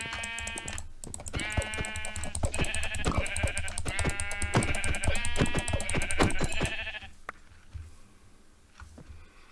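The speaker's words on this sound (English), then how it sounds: "Did you see white sheep over there?" Sheep in Minecraft bleat repeatedly, a loud, close run of wavering calls over several seconds that fades into quieter game ambience.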